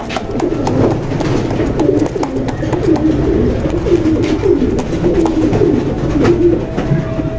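Racing pigeons in a loft keep up a steady, dense chorus of low throaty cooing that overlaps continuously from start to finish, close and loud with no talk.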